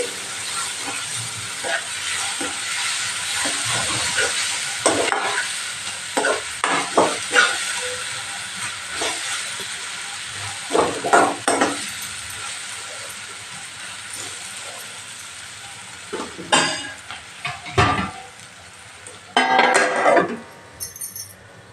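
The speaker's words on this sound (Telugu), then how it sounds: "ఉల్లిగడ్డలు బాగా మగ్గాలండి" Onions sizzle and fry in a pan for a prawn curry, a continuous hiss of cooking fat punctuated by repeated scraping and stirring sounds, with a few louder clanks of the spoon against the pan.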